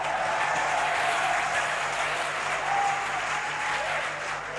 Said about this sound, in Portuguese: Vamos, aplauda ele forte, glória a Deus.